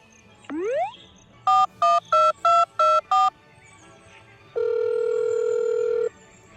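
A short rising beep, then six evenly spaced keypad tones as a phone number is dialed, followed by a longer steady tone.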